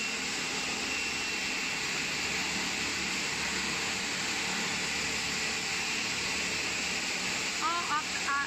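Steady broadband machine roar fills an invisible-zipper manufacturing workshop, a constant industrial drone of zipper and stitching machines with no breaks, and a faint voice surfaces briefly near the end.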